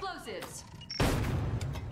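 A C4 charge detonates in the shooter game The Final, a sudden loud blast that cuts in midway and rumbles on, following a stretch of game sounds and speech-like noise.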